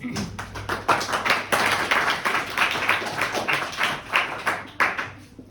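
Students in a maths class clap together, a burst of quick, loud, overlapping claps lasting several seconds before tapering off.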